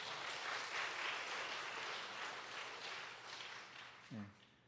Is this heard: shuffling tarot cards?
no